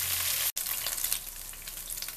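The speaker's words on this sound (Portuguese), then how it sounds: "Utilizando a mesma panela que utilizamos para fritar, selar o nosso frango, dourar o nosso frango" Chicken pieces sear and brown in oil in a cooking pot, giving a steady, close, hissing sizzle that drops out for a split second and then resumes, with no voices.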